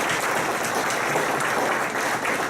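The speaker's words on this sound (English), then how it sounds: "So let's give them all a great round of applause." Audience at a student of the month ceremony giving a round of applause, dense even clapping sustained throughout at moderate loudness.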